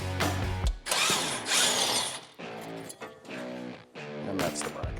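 A power tool spins a 21mm 12-point socket on a Land Rover caliper bracket bolt, giving loud whirring bursts with ratcheting and metallic clanks between them, close up.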